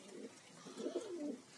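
Pigeons in a loft cooing softly, a few low throaty coos rising and falling over a quiet, steady background, moderately close with no talking.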